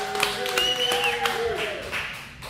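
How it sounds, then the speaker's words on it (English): Scattered clapping and light applause break out in a small gathering, brief and fairly close, with voices and chatter mixed in. "Everyone, please give it up for Adrian Barundo!"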